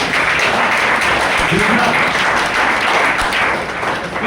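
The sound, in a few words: applause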